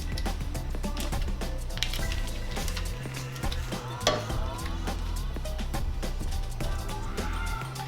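Butter, minced garlic, parsley, dark brown sugar and seasonings going into a pan for a seafood boil sauce, sizzling and bubbling steadily with soft stirring and squishing up close.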